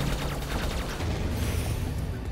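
Laser gunfire from the space-combat video game Comet Crash 2: The Kronkoid Wars, a dense, continuous barrage of zapping shots layered over one another at steady loudness with no talk.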